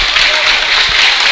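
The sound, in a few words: Monterey basketball crowd clapping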